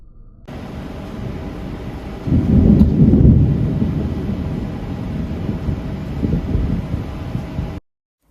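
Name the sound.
thunder from a nearby lightning strike during a night storm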